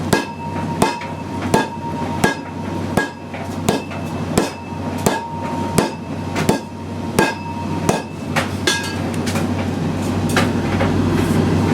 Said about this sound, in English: Or maybe I should get a hammer